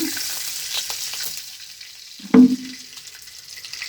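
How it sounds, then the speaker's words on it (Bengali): Oil heating in a wok gives a soft, steady sizzle, interrupted midway by a single dull clunk of cookware. "এই যে কড়াইতে তেল দিয়ে দিলাম"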